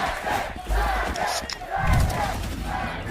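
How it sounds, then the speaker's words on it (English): A crowd at a Valorant esports watch party roars and cheers during a Sentinels versus Cloud9 VCT Americas match, a loud sustained swell of voices with bursts of shouting. "Just listen to that crowd"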